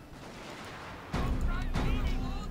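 Gunfire volley from troops in a Battle of Osaka Castle video game battle, a sudden dense burst of shots about a second in that stays loud and crackling, with a second wave of reports shortly after.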